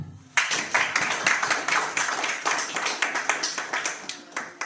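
A congregation claps in a quick, fairly regular rhythm at a church gathering, loud and close, with sharp hand strikes continuing for several seconds after starting abruptly.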